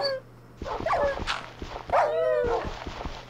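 Dog barks and whimpers inside Minecraft, a few short yips and a drawn-out whine rising and falling over a low steady game hum, fairly close and clear.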